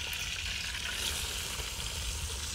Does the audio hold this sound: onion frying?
yes